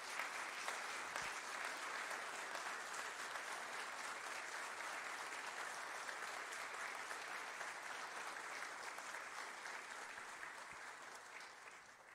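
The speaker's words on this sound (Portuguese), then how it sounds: "Uma salva de palmas para o Senhor" A congregation applauds steadily for about twelve seconds during an inauguration service at the Capital Brazilian SDA Church, a dense, even wash of many hands clapping that fades slightly toward the end.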